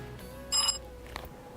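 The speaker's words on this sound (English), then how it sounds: "hold on, my phone's ringing." Brief electronic ring of a mobile phone, one short bright trill of a ringtone over a faint background hum, followed by a small second blip, with no talk.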